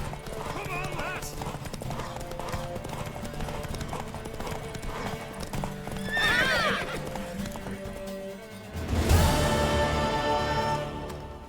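Galloping horse in the video game The Witcher 3, hooves clip-clopping steadily throughout with a neigh partway through, mixed with voices and game sound, and a louder burst near the end.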